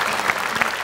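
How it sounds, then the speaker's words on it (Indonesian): A television studio audience on an Indonesian talk show applauds in a brief, dense burst of clapping that fills the short moment. "Tepuk tangan semuanya."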